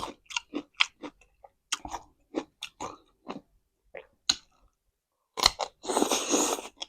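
Crispy pork and fish are chewed close to the mic in a mukbang, giving a run of sharp crunchy bites and chews in an irregular rhythm, then a longer, louder crunching burst at the end.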